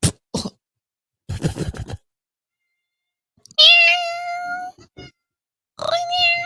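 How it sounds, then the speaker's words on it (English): A nearby cat lets out two drawn-out meows, one in the middle and one at the end, after some short human sounds and quiet stretches. "Meow. Look at this cat."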